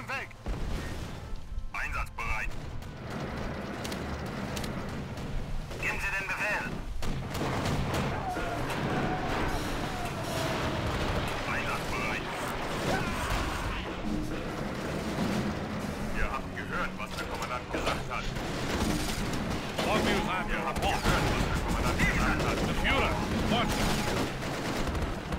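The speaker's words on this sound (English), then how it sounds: "of course we're getting bombarded again" Artillery bombardment in the 2004 strategy game Axis & Allies, set during the defense of Normandy: dense, continuous rumbling explosions and gunfire bursts sustained loudly throughout, with occasional higher crackling impacts.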